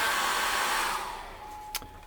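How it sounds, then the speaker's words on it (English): A hair dryer blows steadily with a broad airy roar, then eases down toward the end, leaving a faint hum and a brief click. "I'm going to dry that off with the hairdryer"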